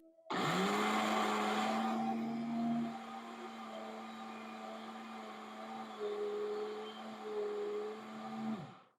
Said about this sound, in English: And I'll be blending smoothly from the other side.